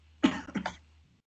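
A single close, harsh cough in two or three quick bursts, followed by quiet.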